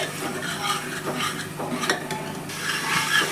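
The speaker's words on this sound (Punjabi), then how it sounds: "ਵਿੱਚ ਵਿੱਚ ਤੁਸੀਂ ਕੜਛੀ ਚਲਾਉਂਦੇ ਰਹਿਣਾ ਹੈ ਤਾਂ ਜੋ ਜਿਹੜਾ ਆਪਣਾ ਮਸਾਲਾ ਹੈ ਨੀਚੇ ਨਾ ਲੱਗ ਜਾਵੇ" A ladle scrapes and stirs a tempering of spices roasting in a pressure cooker, a steady metallic rasping and clinking against the pot with a faint sizzle underneath, continuous and close.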